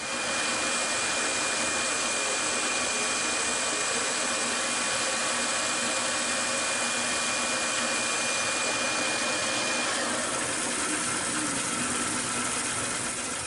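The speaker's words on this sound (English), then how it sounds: "We're going to cut that on the bandsaw." Steady, loud machine roar from a bandsaw cutting spalted wood for a three-legged calabash bowl, a continuous broadband whine with a high tone that drops out near the end, no talking.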